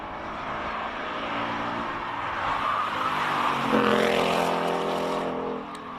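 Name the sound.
Ford Mustang Mark 1 racing up hill climb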